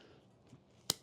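Scissors snip through bonsai roots on a narrow-leaf octopus tree, giving one sharp, brief cut that stands out clearly against a quiet background.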